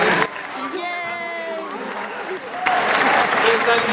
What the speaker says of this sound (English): I'd like our panel to give you a round of applause